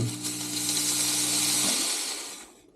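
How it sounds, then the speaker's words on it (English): The steam wand of a Diletta Mio espresso machine purges with a loud, steady hiss and a low droning hum underneath. The hum cuts out partway through, and the hiss then tapers off quickly to quiet. "But you also want to purge your steam wand after."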